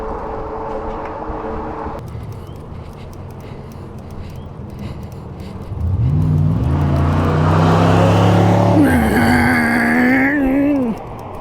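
A Bafang electric hub motor on test, a steady whine rising and then sweeping in pitch as it spins up, loud and close, with a mechanical hum underneath and brief noise at the end.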